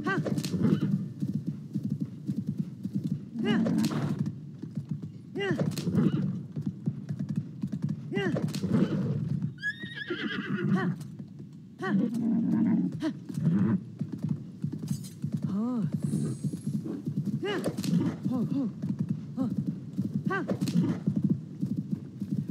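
Horse hooves clip-clop steadily while a horse neighs and whinnies a few times in The Legend of Zelda: Tears of the Kingdom, with game music and background sounds running underneath throughout.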